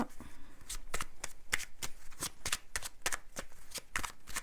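Playing cards are shuffled up close in rapid riffling bursts and flicks, loud and continuous with short pauses between passes.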